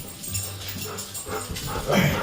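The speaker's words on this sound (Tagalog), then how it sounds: "Yung mga aso kasi, na-interrupt ako sa mga sinasabi ko." Dogs barking and whimpering close by outdoors, short yips and whines rising in a cluster near the end, with a low hum underneath.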